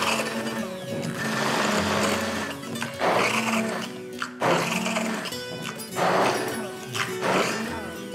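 Food processor blending a dip of chili, garlic, mint and fresh lemon, loud whirring bursts that pulse and stop briefly between spins, close to the listener.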